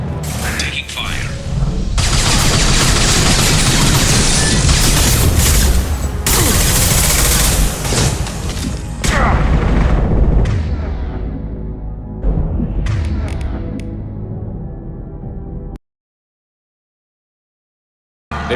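Sustained bursts of rapid automatic gunfire and booming impacts fill a firefight in Mass Effect 2, loud and dense for most of the stretch before cutting to silence, with voices calling out over the shooting.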